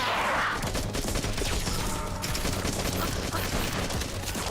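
Automated turrets fire in the first-person shooter Beyond Sunset, a dense, continuous rattle of rapid shots and impacts packed close together, loud and unbroken, with no one speaking.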